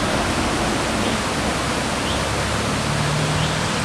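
Steady rushing water from a stream passing beneath viaducts along the A9, a continuous broadband roar filling the whole clip at close range, with a faint low vehicle rumble briefly underneath.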